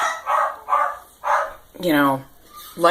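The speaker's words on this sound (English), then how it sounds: "I'll go shut the dog up." A house dog barks in a few short bursts close by while people talk in a home; the barks mix with the voices rather than standing alone.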